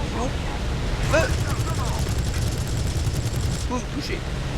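Aircraft gunfire in War Thunder, rapid rattling bursts of machine gun fire over a constant rumbling engine drone, with a voice speaking French briefly among the shots.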